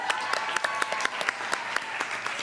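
Audience applause at an open mic, a smaller crowd clapping briskly, with individual sharp claps standing out in a steady, close patter.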